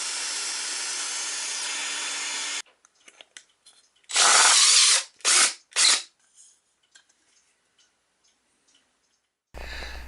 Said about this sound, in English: before I actually start drilling that real mahogany